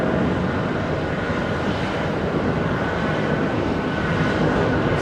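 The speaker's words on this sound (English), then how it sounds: "Swiss exiting the runway 22 left." At JFK, a Swiss airliner exits runway 22 left, and its jet engines give off a steady, broad roar that holds evenly and loud throughout.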